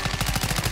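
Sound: sniper rifle gunshot in Call of Duty video game

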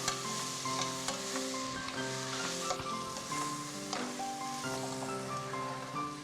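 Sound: soaked rice added to a hot pan, sizzling

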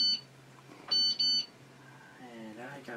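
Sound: timer alarm beeping

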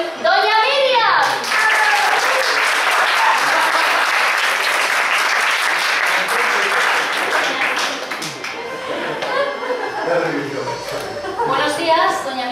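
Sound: audience applause welcoming a game show contestant

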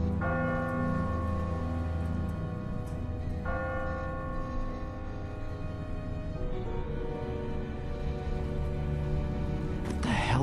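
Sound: bell tolling in The Walking Dead video game

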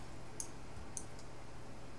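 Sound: mouse clicking while dragging objects in Inkscape

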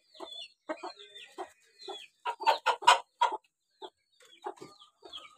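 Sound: rooster and chickens clucking

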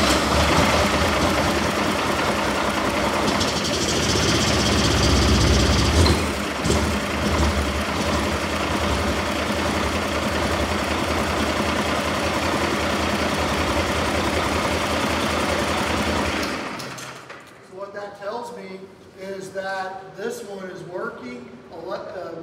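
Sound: diesel truck engine starting and idling

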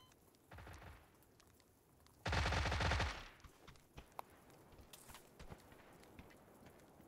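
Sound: gunshots in video game PUBG

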